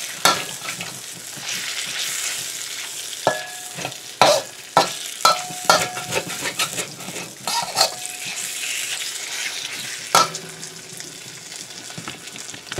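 Meat fries in oil in a pan with a continuous close sizzle, broken by repeated sharp clatters and scrapes as it is stirred.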